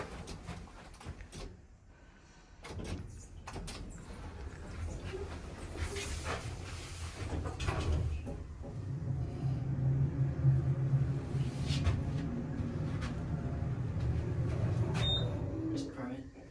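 A Westinghouse hydraulic elevator, modernized by National, at Mountain View City Hall slides its doors shut with a clunk, then the car descends with a steady low hydraulic rumble and hiss, close by in a quiet hall.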